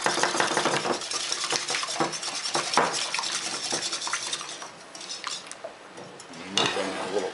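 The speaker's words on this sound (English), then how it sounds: "you want to whisk them really well until they turn sort of a lemony color" Four eggs being whisked in a bowl, heard as quick, close, rhythmic clinking and scraping of the whisk against the bowl that eases off slightly toward the end.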